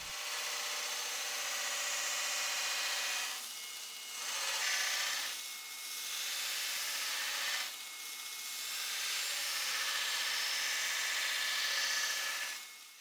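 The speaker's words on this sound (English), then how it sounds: "So, first, I'll use the table on my grinder to grind the profile." A belt grinder with a table rest grinding the profile of a Nitro V steel chef's knife blade, giving a loud, steady abrasive hiss with a few brief dips as the blade is lifted and repositioned.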